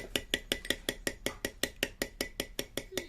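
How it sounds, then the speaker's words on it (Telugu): A spoon stirs basil seeds and rock salt in a glass, clinking sharply against the sides about five times a second in a steady, close rhythm with no talking. "కాస్తంత సైంధవ లవణాన్ని కూడా వేసి బాగా కలపండి"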